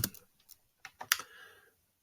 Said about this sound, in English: so I have to watch where I'm typing here